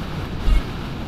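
Strong wind buffets the microphone of a motorcycle rider in the town of Bacarra, a steady low roar with one brief louder gust midway, heard alone.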